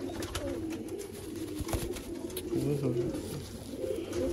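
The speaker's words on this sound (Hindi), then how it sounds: "बहुत ही नयाब कबूतर है ये।" Rare Sialkoti pigeons coo in low, soft rolling calls, faint and close, while a person talks quietly underneath.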